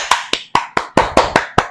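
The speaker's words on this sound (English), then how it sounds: "So can we get a warm round of applause for that accomplishment?" Eight crisp, separate hand claps sound in an uneven rhythm, close and loud. It is a small, sparse round of applause from an audience rather than a full ovation.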